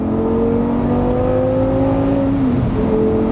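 A 2012 Audi R8 GT Spyder with its roof down accelerates hard, its engine note climbing steadily in a loud, close, continuous roar that dips briefly near the end.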